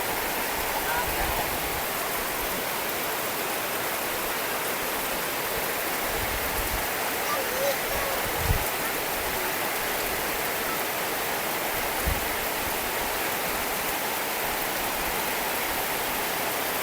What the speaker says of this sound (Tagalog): bagsak na ito ng uh, ulan. Napakalakas po.